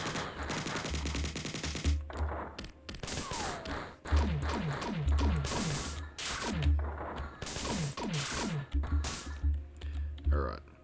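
Missiles launching and blasting enemies in the classic shooter Marathon, a rapid run of sharp bursts and thuds with low booms, mixed with game music and effects.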